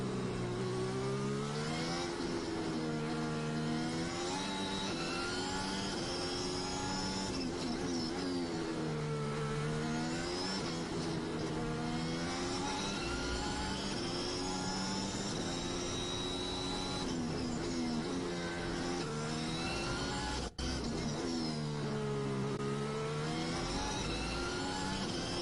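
A Formula 1 car laps the 5.8 km Sochi circuit during Russian Grand Prix practice in 2021, its high-pitched engine screaming steadily and loudly throughout, with repeated rising and falling pitch sweeps as it downshifts for corners and accelerates out.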